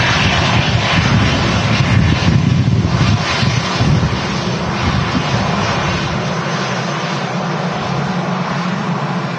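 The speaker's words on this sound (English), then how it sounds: "it's a Virgin Atlantic heading out for Bridgetown" A Virgin Atlantic Airbus A330 taxis out at Manchester Airport, bound for Bridgetown. Its jet engines give a steady, fairly loud roar with a broad wash of noise, and wind buffets the microphone at times.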